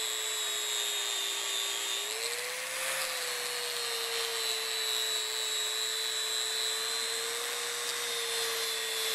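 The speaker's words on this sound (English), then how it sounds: "Tony's using a sanding disc on a grinder to make the final finish on it" A grinder fitted with a sanding disc polishing a metal spring gives a steady high whine that dips briefly and recovers, running continuously and close up with no talk.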